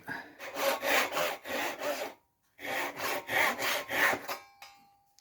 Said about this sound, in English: I love this really smooth finish you get with Japanese saws.